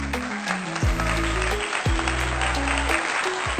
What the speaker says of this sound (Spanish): Así que démosle un fuerte aplauso a Juan Manuel Erazo.